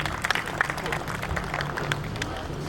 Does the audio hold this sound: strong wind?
no